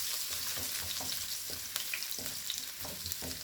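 Garlic fries in a pan for a tomato garlic chili sauce, a steady close sizzle broken by repeated soft stirring scrapes and taps, no talking.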